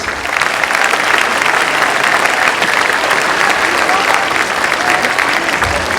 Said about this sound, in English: Please give a round of applause to Oman House.